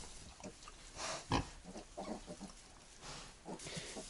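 Vietnamese pigs grunt in short, low bursts scattered through the clip, close by, with a bit of rustling around them.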